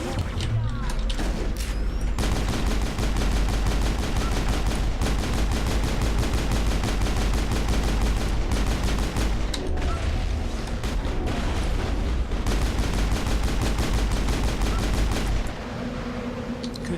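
Sustained, dense gunfire from snipers and combat in the sci-fi shooter Mass Effect, loud and continuous for most of the stretch with sharp repeated shots and mechanical clatter, easing off near the end.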